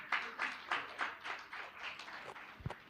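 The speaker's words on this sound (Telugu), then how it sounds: "అందరం గట్టిగా ఒకసారి చప్పట్లు కొడదాం." Audience at a church prayer session claps in a few soft bursts, fairly faint and distant, ending in a single low thump.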